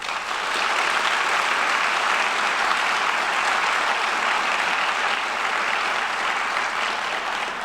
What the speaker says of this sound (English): Please join me in a round of appreciative applause for the Palm Beach County Medical Society.